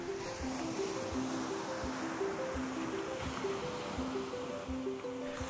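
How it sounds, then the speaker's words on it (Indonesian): Ocean waves break continuously on a beach in Aceh Jaya, a steady, moderately loud wash of surf with faint rhythmic surges and no voices, under a soft repeating melodic tone. "tidak hanya menyajikan nyanyian dari deburan ombak"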